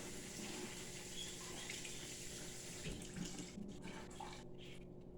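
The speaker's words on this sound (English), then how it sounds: "just hit it with some cold water real quick" Cold water runs steadily from a kitchen tap over salad vegetables held in a hand, making a continuous splashing rush that stays close and even throughout.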